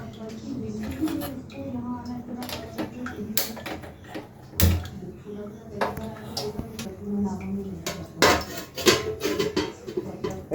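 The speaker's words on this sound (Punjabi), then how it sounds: "ਹੁਣ ਅਸੀਂ ਇੱਥੇ ਢੱਕਣ ਇਦਾਂ ਰੱਖ ਲੈਣਾ" A metal lid set on a hot kadai while cooking dal, heard as a series of close clanks and knocks of metal cookware, with a person talking throughout.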